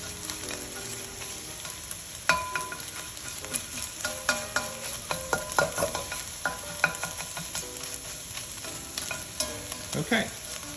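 A spatula scrambles and breaks up food in a hot pan for Singapore mei fun, giving repeated scraping clicks over a continuous sizzle.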